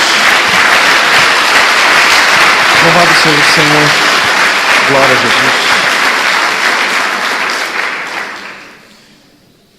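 A church congregation gives loud, sustained applause for Jesus while a voice calls out praise over it, and the clapping fades away near the end.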